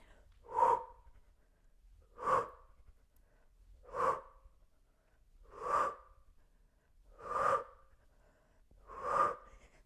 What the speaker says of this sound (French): une grande expire vers le ciel